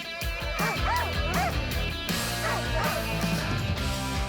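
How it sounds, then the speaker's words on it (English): Sled dogs from a mushing kennel barking and yipping together in a busy, overlapping chorus with rising whines and yelps, close and fairly loud, mixed with other background sound. "the small town of Livingston, Jenny Rodewig breeds sled dogs."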